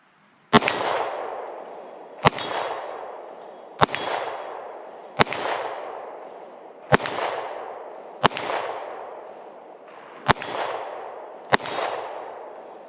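Glock 48 MOS pistol shots ring off a distant steel target at an outdoor range, eight sharp cracks each followed by a metallic clang, spaced about one to two seconds apart with short decaying tails.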